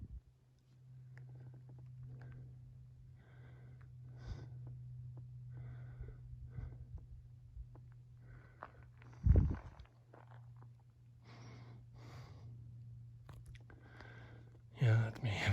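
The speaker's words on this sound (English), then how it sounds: "Yeah, that's me heavy breathing." A hiker breathes heavily while climbing uphill on the Clouds Rest trail in Yosemite, rhythmic close-up huffs and breaths over a steady low hum, with a couple of sharp bumps or wind thumps.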